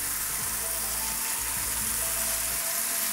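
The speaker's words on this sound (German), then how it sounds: "Und wird weitere 2 Minuten jetzt gebraten" Pieces of marinated chicken fillet sizzle steadily in a frying pan, a constant hiss with faint low knocks from the pan, no voices.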